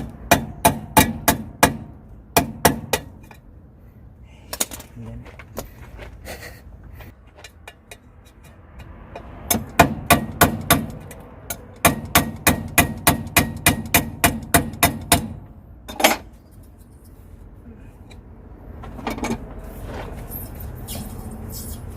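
Sharp metallic hammer blows on a screwdriver being driven into a Volvo truck's oil filter, struck in quick rhythmic bursts of about a dozen evenly spaced hits, then pauses, repeating several times close up.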